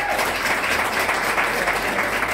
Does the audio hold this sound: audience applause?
yes